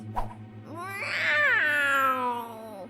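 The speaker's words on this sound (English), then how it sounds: "they were greeted by a big and ferocious cat" Big, ferocious cartoon cat letting out one long, loud, drawn-out caterwauling meow that rises and then slowly falls, close and alone after a brief thump, over a faint low hum.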